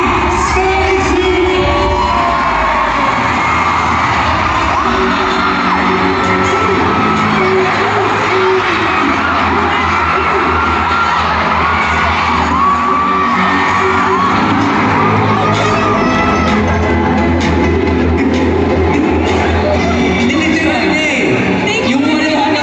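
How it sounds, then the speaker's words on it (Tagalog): Fans at a fan meet in the Mall of Asia Arena scream and cheer nonstop, a loud, dense crowd roar with shrill shouts and whoops that holds steady the whole way through. "Stallion fans, sumigaw para sa ating police candidate, Dini Saizu!"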